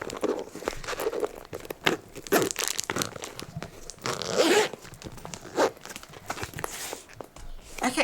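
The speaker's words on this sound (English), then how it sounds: "So let's see how this zips up." A zipper is pulled closed on an overstuffed used vintage Gucci bag, giving close, rasping zip strokes in short bursts mixed with crinkling and rustling of the bag's contents.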